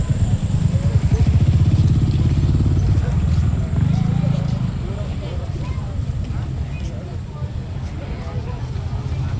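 Motorcycles run near the Arayat viewpoint, a loud, rough low engine rumble that is strongest in the first four seconds and then eases into a steadier drone, with people chatting over it.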